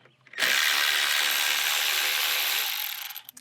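A 10mm ratchet backs out a bolt under the hood of a 2007–2013 R56 Mini Cooper, near the coolant expansion tank. It makes a loud, steady, close buzzing whir for about three seconds and trails off at the end.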